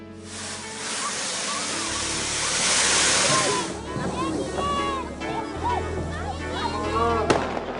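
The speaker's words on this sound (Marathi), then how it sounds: "चंद्रभागेच्या वाळवंटात नागरिकांनी फटाक्यांची आतषबाजी करत दिवाळी साजरी केली" Diwali firecrackers and fireworks set off by crowds on the sandy bank of the Chandrabhaga river, a dense crackling roar of bursts and hissing under steady narration.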